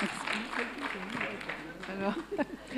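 Scattered audience applause after a question at a panel debate on women and science, a steady patter of clapping that fills the room for a few seconds, with voices talking over it.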